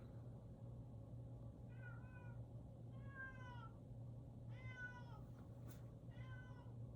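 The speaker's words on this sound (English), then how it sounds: "Can you hear the cat?" A cat meows four times in short, drawn-out calls, fairly faint, over a steady low hum in a quiet room.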